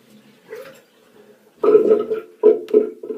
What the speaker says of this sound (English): drain the water out the sink